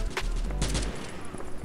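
Modern Strike Online gunfire, a couple of loud sharp shots over a constant rumbling game background in a short burst.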